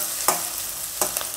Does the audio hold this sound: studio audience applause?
no